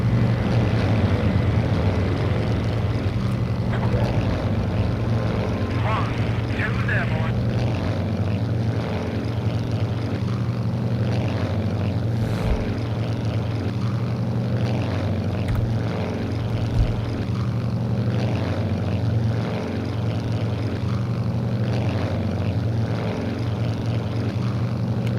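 A jet at full throttle launching from a carrier flight deck in Strike Fighters 2, set over the Gulf of Tonkin: a steady, loud engine roar with a low droning hum that holds throughout, alone without talk.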